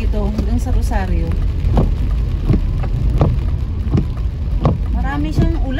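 Heavy southwest-monsoon rain pours steadily over a coastal neighborhood in Malabon, a dense, constant hiss of downpour, while voices talk over it throughout.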